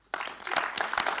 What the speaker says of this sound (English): So I would like to have a big applause for our Minister, Mark Harbers.